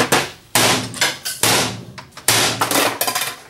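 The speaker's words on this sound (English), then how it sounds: "let's just go ahead and just hammer it" A hammer smashes a printer apart, with repeated loud, sharp blows on plastic housing at an irregular pace. Each hit rings and rattles briefly before the next strike, close to the microphone and with no talking.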